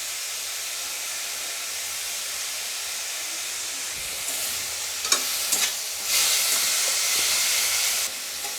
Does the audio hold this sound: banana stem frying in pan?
yes